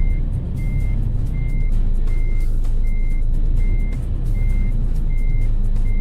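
A Freightliner Classic truck reversing in Euro Truck Simulator 2: a steady series of evenly spaced reversing beeps, about nine in six seconds, over a loud, continuous low diesel engine rumble.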